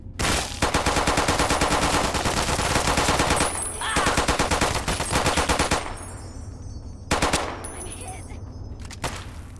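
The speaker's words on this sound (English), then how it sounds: "Let's get this 10mm submachine gun out." Rapid automatic bursts from a 10mm submachine gun in the video game Fallout, loud sustained strings of shots with a brief pause and a short final burst, no talk.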